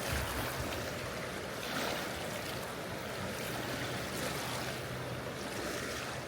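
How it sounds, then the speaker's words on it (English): Rushing water roars steadily and loudly with a broad, constant wash: whitewater rapids on the South Fork American River heard up close, with no voices. "And we're down at the South Fork American River."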